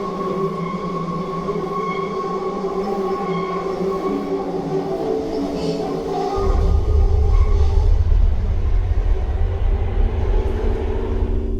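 A subway train rumbles through a tunnel, a continuous loud roar with metallic whine that deepens and grows heavier partway through.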